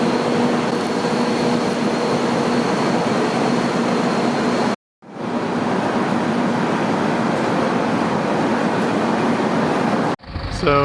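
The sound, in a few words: Tren Maya train at Campeche station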